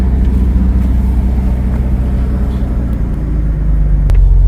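An old car engine idles steadily up close, a loud, continuous low rumble with a slight uneven throb, alone without talk.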